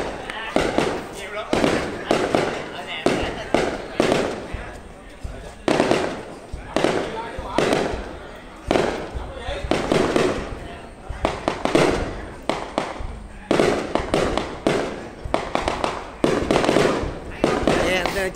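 Fireworks display exploding at a 2023 New Year celebration in Vinh Thuan district, Vietnam: dense, continuous volleys of loud bangs and crackles in rapid bursts with short pauses, as spectators chatter now and then.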